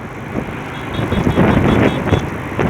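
Gusty wind at around 40 to 50 km/h swirls into a whirlwind beside a light 120 kg motorbike, a loud, steady broadband rush that swells in bursts and batters the microphone, with no one speaking.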